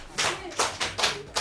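An audience claps in a few quick bursts, roughly three or four sharp rounds of hand-clapping close by, with faint talk underneath.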